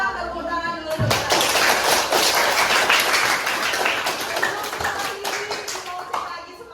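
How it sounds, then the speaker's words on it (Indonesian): Students in a classroom burst into applause after a lesson, a dense burst of clapping from a small group that starts suddenly after a brief voice and carries on evenly before tapering slightly. "silakan tepuk tangan dulu untuk kita"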